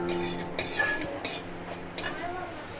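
Spoon stirring chopped ginger and kala chana (black chickpeas) frying in a pan, with repeated close clinks and scrapes of cutlery against the pan over a low background sizzle.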